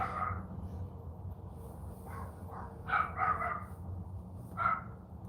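Several dogs bark in short bursts at a distance, intermittent yaps over a low background hum.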